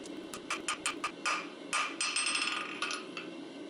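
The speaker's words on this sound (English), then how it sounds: "I'm tipping the hammer up on edge a little bit so that I can use the edge of the hammer as a fuller in order to draw the steel out" A hammer strikes hot steel on an anvil while forging a flint striker, giving a series of sharp, ringing metallic blows in an uneven rhythm, some quick and some spaced, close and clear.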